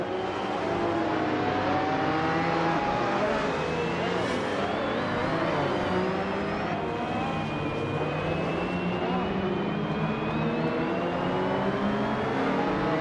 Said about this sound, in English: Sophie is driving a 1995 Dodge Viper RT10.